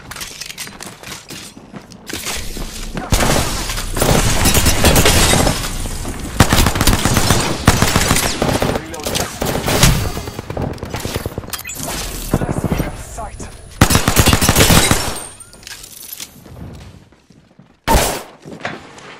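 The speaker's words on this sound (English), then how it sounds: "They're shooting at me." Loud, close gunfire in Apex Legends, dense volleys of rapid shots with heavy impacts and short gaps, ending in a sudden single blast after a quieter pause.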